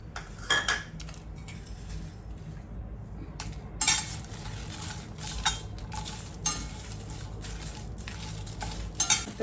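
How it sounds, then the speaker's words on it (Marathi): Bay leaves and Kashmiri chillies dry-roasting in a pan for homemade garam masala, with steady scraping and stirring, and metal clinks and taps from a spatula against the pan sounding throughout. "तर तेजपत्ता आणि काश्मीरी मिरची आपली भाजून झालेली आहे"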